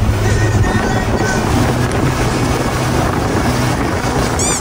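A lime green Lamborghini-style wake surf boat rumbles across the water, with steady engine drone and rushing water mixed with heavy wind buffeting on the mic.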